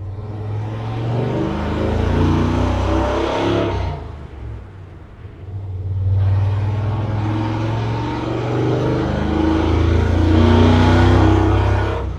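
A deep, rumbling 800-horsepower modified truck engine, exhausting through a cutout under the passenger floorboard, revs hard and holds a loud roar, drops off briefly, then revs up again for a long second burst.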